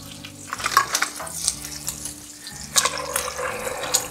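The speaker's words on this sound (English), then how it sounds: "Give it a stir." Large seashell pasta being stirred in a pot of water, with repeated clattering, scraping strokes and watery swishing, close and fairly loud, no voices.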